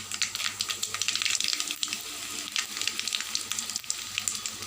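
Dried red chillies, small shallots and curry leaves sauté in hot oil with a bright crackling sizzle, louder at first and then settling, with a few soft stirring knocks; no one talks.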